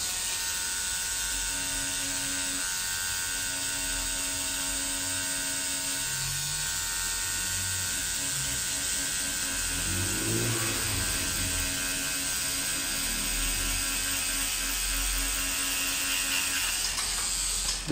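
A tattoo machine cross-hatches shading on a realistic rose tattoo, giving a steady close electric buzz with a faint rattle that runs throughout without pause and without voices.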